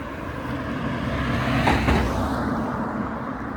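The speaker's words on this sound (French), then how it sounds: "On attend que les voitures passent pour être sûr que vous m'entendiez" Cars pass along a road at moderate distance, with a steady traffic rumble that swells into a louder whoosh as one vehicle goes by midway, then eases off.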